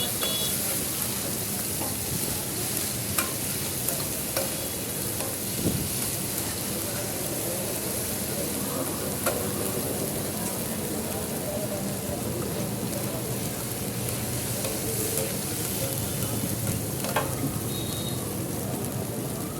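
A pan of saffron kebabs frying gives off a continuous, even hiss and spatter, like steady rain, with faint scattered pops and no clear speech.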